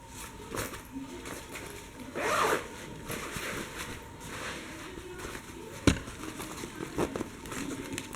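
An F Gear backpack, black outside and orange inside, has its Japanese-made zippers pulled open with several close rasping zips, one louder pull near the start and a sharp click later, over faint room noise.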